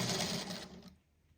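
A sewing machine stitches a quarter-inch seam on a 5-inch patchwork quilt block, its close, steady motor whir running for under a second before cutting off and leaving quiet.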